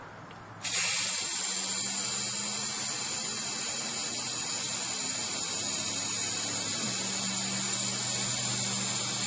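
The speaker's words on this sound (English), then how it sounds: "I like to start with your base color first and spray the black." A spray paint can sprays black base coat onto a deer skull, starting with a brief quiet moment and then a loud, continuous close hiss that holds steady to the end, no voices heard.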